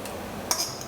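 A single soft clink of a utensil against a pan as mushrooms are tipped back into a creamy port sauce, one brief metallic tick under a low kitchen hum.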